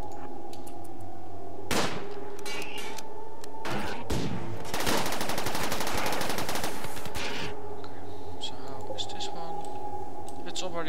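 Colonists in the video game RimWorld trade gunfire: a few sharp shots, then a dense burst of rapid automatic fire in the middle, with mouse clicks and light game sounds between the shots.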